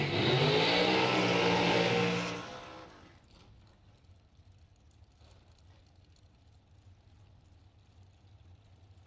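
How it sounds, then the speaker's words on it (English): A dragster at a bracket drag race roars loudly for about two seconds, then the engine sound drops away quickly, leaving a low distant rumble and crowd ambience. "Here we go. Dragster Mickey Thompson, round one."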